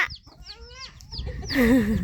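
Chickens cluck close by, a quick run of short clucks rising into a louder, drawn-out squawk near the end.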